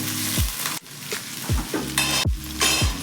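Ginger and green chillies frying in a pan for a mushroom pepper fry: a steady loud sizzle broken by several sharp scraping stirs and a couple of clinks, with no voices.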